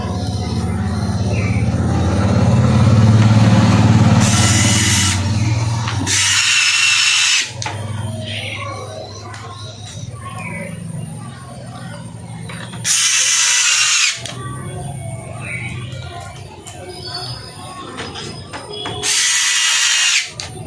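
A power driver fits nuts onto an LED TV backlight driver board in short, loud whirring bursts spaced several seconds apart, with someone talking nearby between and under them.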